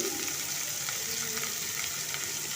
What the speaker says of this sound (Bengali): পাঁচ ফোড়ন দিয়ে এক বাটি কুচিয়ে রাখা পেঁয়াজ দিয়ে দিচ্ছি